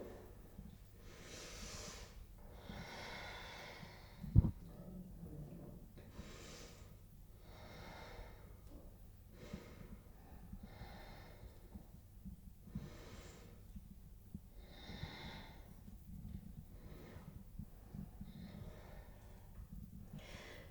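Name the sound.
yoga breathing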